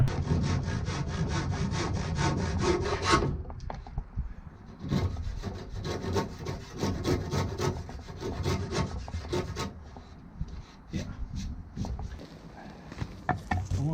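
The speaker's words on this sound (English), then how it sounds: "Just gonna round off the top a little bit so I don't get a sharp edge poking up underneath the rub line" Hand sawing wood to round off the top of a support under a boat's rub line, a steady rhythmic rasping of strokes, loud and close, with a brief pause around the third second and then more sawing.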